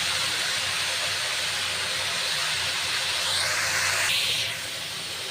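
Red amaranth greens hiss and sizzle loudly in a hot pan with fried onions, a continuous broadband steam-like roar that swells briefly as the leaves go in, then settles slightly lower.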